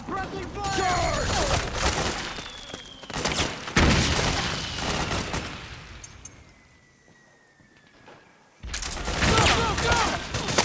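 Gunfire in the Metal Gear Solid 4: Guns of the Patriots video game: scattered shots and bursts crackling amid battle noise, with shouted voices, dropping to a quieter lull before the fighting resumes loudly.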